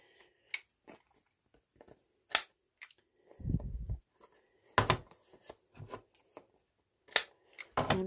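A handheld corner rounder punch snips the corners of paper for a junk journal page, giving several sharp, quiet clicks and snaps spaced irregularly, with a soft rustle of handling in between.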